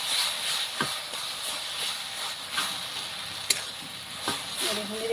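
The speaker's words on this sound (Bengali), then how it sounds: "এখন ভালো করে একটু গুড়টা এভাবে নাড়াচাড়া করে গালিয়ে নেব।" Jaggery stirred in a hot pan as it melts, giving a steady close sizzle with soft scraping strokes and occasional light clicks of the spoon against the pan, no voices.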